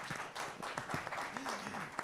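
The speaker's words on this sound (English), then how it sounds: "we can give them a round of applause" Audience applause at the close of a panel session on postgraduate funding, a soft continuous patter of clapping with a voice briefly over it, fairly quiet.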